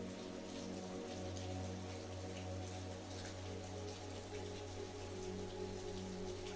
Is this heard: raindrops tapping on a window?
yes